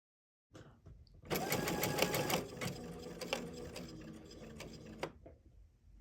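A Baby Lock Chorus sewing machine stitches a button in place, starting with a brief whir, then a close, steady mechanical clatter of rapid needle strokes for about four seconds before stopping abruptly.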